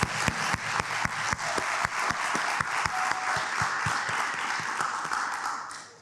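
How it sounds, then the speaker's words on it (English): An audience at a county youth commission cohort celebration claps steadily for several seconds, a dense close wash of hands with distinct individual claps standing out before it fades. "Give yourselves a round of applause."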